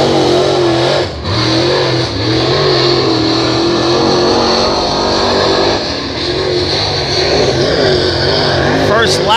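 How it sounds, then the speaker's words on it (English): A race car laps a small-town speedway during a heat race at Hattiesburg Speedway. Its loud, sustained engine roar rises and falls with throttle, and an announcer talks over it. "Chris McHanley out to set fast time."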